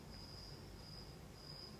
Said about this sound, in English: I walk out and there's like 50 crickets in my living room